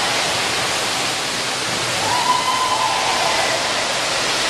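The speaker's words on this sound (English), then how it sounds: "This resort has its own indoor water park." Splashing and rushing water at a resort's indoor water park, a loud, steady wash of noise that fills the room for several seconds without any voices.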